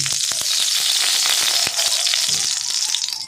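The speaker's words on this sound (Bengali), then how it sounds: "আমি কড়াই গরম করে নিয়েছি। আমি একটু কড়াইতে একটু ঘি দিয়ে নেব।" Ghee heats in a hot wok and gives off a loud, dense sizzle and crackle that runs steadily from start to finish with sharp little pops, and no one speaks.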